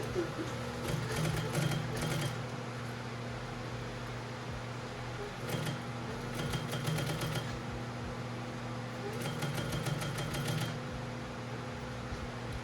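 Three separate bursts of rapid mechanical stitching from a sewing machine sewing a lapped zipper, each lasting a second or two, separated by pauses over a steady low hum.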